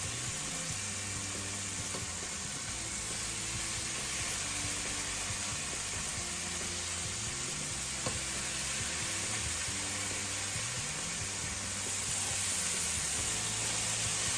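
Steady, crackling sizzle of bacon frying on a hot griddle, a continuous hiss with small pops throughout, close and fairly loud.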